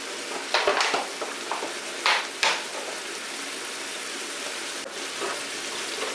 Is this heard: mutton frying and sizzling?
yes